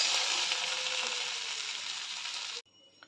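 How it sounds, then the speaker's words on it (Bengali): Taro stolons frying in oil with a hilsa fish head hiss in a steady, dense sizzle that continues for most of the moment before cutting off abruptly near the end, leaving only quiet background with no voices. "এই দেখুন কি সুন্দর লতিগুলো ভাজা ভাজা হয়ে গেছে"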